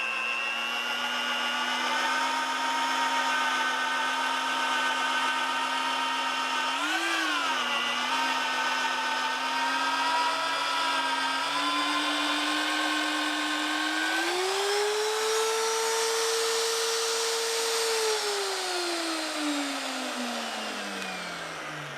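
A Vevor 1400W magnetic drill cuts steel at high speed, a loud steady motor whine running without pause, its pitch dipping briefly and then rising and falling as the load changes.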